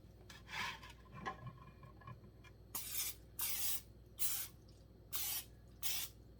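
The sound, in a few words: cooking spray being sprayed into a pressure cooker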